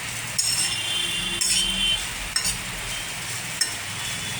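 Chira pulao with peanuts and raisins being stirred in a pan, a steady soft sizzle with a few sharp clinks of a utensil against the metal.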